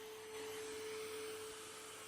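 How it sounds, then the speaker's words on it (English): AQUA VIVA 2 dust mite vacuum cleaner running while vacuuming, a steady close motor whine and airflow hiss holding evenly throughout. "If we now vacuum a little, we will see what happens."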